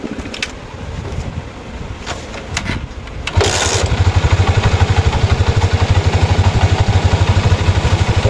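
A Honda TMX Alpha 125 motorcycle, with a newly replaced stator and regulator, cranks for a few seconds, then fires and settles into a loud, steady, close-up idle with a rapid rhythmic putter.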